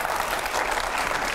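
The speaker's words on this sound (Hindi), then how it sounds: "सुप्रिया जी और सुधांशु जी स्टूडियो में आ गए, जोरदार तालियां हो।" Studio audience in a television debate studio applauds in a dense, steady burst of clapping, loud and continuous throughout with no voices over it.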